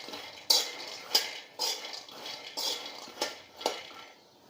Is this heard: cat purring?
no